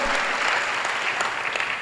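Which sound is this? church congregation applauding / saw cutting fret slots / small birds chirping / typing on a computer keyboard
church congregation applauding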